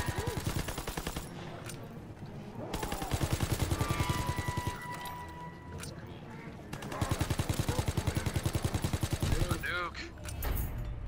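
Assault rifle fire in Call of Duty WWII Zombies, several long, rapid automatic bursts separated by short gaps, loud and close, with players talking over parts of it.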